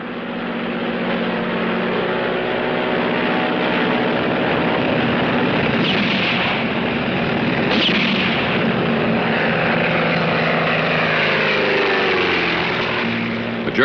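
Airplane engines roar steadily and loudly throughout a rough runway landing under attack by rebels, with a swerve and pull-up to avoid a truck, the engine pitch shifting near the end.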